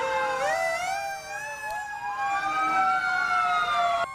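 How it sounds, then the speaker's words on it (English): Fire engines with flashing lights roll slowly along in a parade route, several wailing sirens rising and falling over one another, loud and continuous, with no voices. "Flashing lights and sirens."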